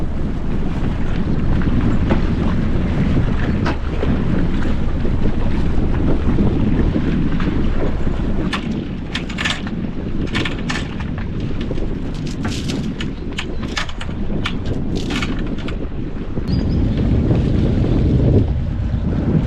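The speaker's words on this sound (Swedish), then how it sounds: "Då glider vi sakta gemak 4 knop med vinden mot Kållandsö." A sailboat glides slowly at about four knots with the wind across Lake Vänern toward Kållandsö, a constant loud rush of wind buffeting the microphone over low water and hull noise, with no voices.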